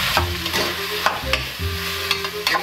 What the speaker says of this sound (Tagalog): Pagpa-brownin muna natin siya or palalambutin bago natin ilagay yung ating toyo o ating suka.